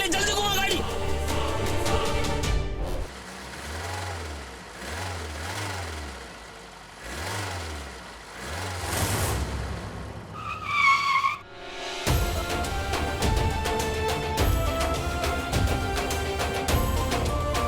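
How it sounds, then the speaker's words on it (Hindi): A car engine revs hard and tires screech through a fast U-turn on a road at night, loud and close, with dramatic music and people speaking over it. "यू टर्न ले गाड़ी, यू टर्न ले, जल्दी घुमा गाड़ी।"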